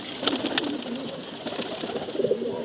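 Male pigeons coo in low, throaty, rolling calls while scuffling with one another, with a few sharp flutters breaking through the steady cooing.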